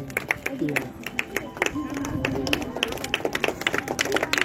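A group applauds prize winners at an Independence Day celebration at a coaching centre, with scattered uneven claps over a few seconds alongside nearby chatter and voices.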